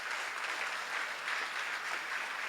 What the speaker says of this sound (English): This applause is for you.